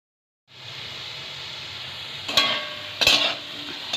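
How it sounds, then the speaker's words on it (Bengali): Cut potatoes coated in salt and turmeric hit hot mustard oil in a kadai, starting a steady, even sizzle, with two sharp clanks of a spatula stirring against the pan. "কাটা আলু লবণ হলুদ মাখিয়ে ভেজে নেব।"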